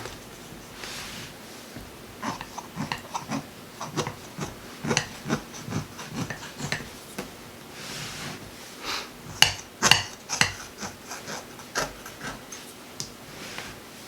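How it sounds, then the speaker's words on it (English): A knife trims excess dough from the edge of a chicken pot pie. It makes a steady run of short scraping and tapping strokes, close and fairly quiet, with a few sharper clicks partway through. "Take a knife and just cut off this excess dough around the edge."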